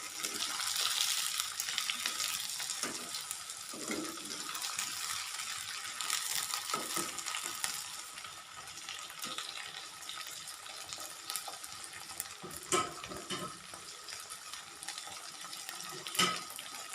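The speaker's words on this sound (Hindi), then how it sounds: "भिंडी को हमने तब तक फ्राई करना है जब तक इसकी लेस ख़त्म ना हो जाए" Okra frying in a pan gives a steady, soft sizzling hiss that carries on throughout, with a few faint stirring clatters and no voices.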